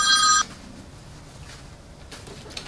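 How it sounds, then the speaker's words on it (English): A telephone bell rings once in a short, loud electronic burst at the start, then cuts off, leaving quiet room tone. "I got a phone call."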